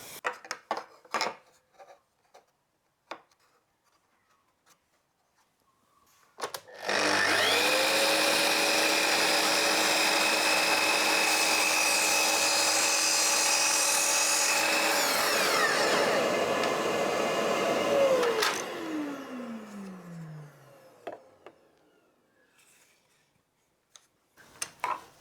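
A drop saw runs up, bites through wood moulding on a 45 degree miter cut with a steady loud whine, then winds down with a falling pitch, with faint clicks before and after.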